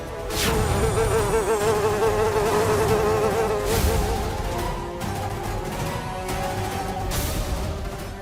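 A fly buzzes steadily and close for several seconds, a continuous droning whine that wavers in pitch with no voices over it.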